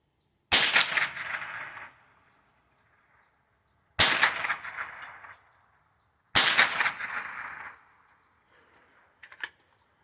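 Three sharp gunshots from an S&W 15-22 .22lr AR-15 style rifle, spaced about two to three seconds apart, each with a short reverberant tail, followed by faint metallic clinks near the end.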